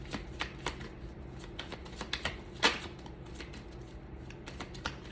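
Oracle cards being shuffled by hand, a run of quick crisp riffling snaps and soft slaps in an uneven rhythm, close and fairly quiet, with no voice.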